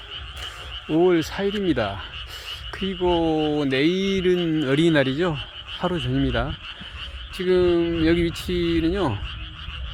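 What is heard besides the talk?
frogs croaking in rice field at night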